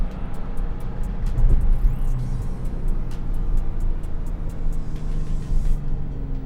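A 2017 Porsche 911 Turbo S (991.2) drives along with a steady, close engine rumble and road noise, the level holding fairly even throughout with a brief swell early on.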